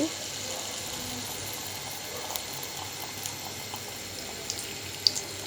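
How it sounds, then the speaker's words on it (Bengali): Pitha, Bengali batter cakes, frying one at a time in hot oil on a stove for crisp oil pitha: a steady, close hissing sizzle with scattered small pops and crackles throughout. "এখন আমরা একটা একটা করে পিঠা ভেজে নেব। এর জন্য চুলায় তেল গরম করে নিয়েছি।"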